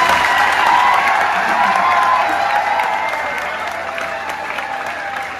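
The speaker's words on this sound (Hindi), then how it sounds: "जोरदार तालियों से उनका स्वागत करें" Loud, sustained applause from an audience at a political gathering, welcoming MLA Surendar Pawar, a dense wash of clapping with some cheering that slowly fades over several seconds.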